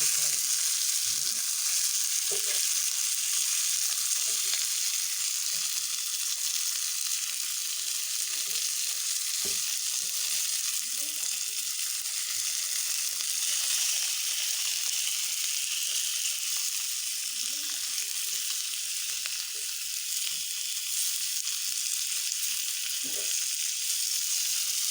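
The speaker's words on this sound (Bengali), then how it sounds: "মাছটা আমি উল্টায় পাল্টায় ভাজি করে নিলাম" Fish pieces fry in a pan with a loud, continuous hissing sizzle that holds steady for the whole stretch, with scattered soft taps of turning the pieces; nobody talks.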